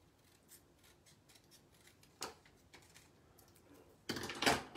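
Scissors snip through a paper label lengthwise, giving quiet close-up crisp cuts and light rustling, ending in a louder pair of snips, with no talking.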